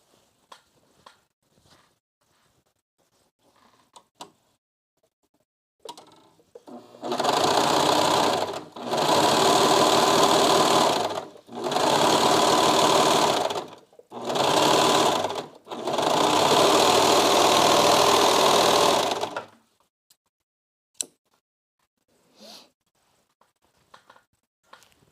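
A serger sewing machine runs in five loud, steady bursts of stitching with short pauses between, recorded very close up, with quiet handling noises before and after.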